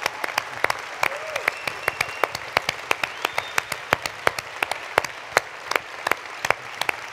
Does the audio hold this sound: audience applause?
yes